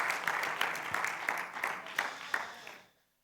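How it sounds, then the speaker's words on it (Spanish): Applause from a conference audience, a few seconds of brisk, fairly close clapping with rhythmic accents, then fading quickly to silence. "Un aplauso fuerte"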